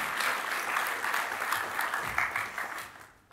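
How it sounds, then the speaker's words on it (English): A conference audience applauds steadily after a tech talk, a dense even patter of many hands clapping that fades out toward the end. "Give these two a round of applause for putting up with me"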